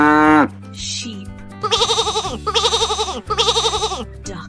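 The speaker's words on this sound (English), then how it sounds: "Sheep." Sheep bleating: three loud, wavering bleats in a row, each about half a second, following a short spoken word at the start.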